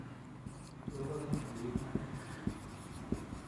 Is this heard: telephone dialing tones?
no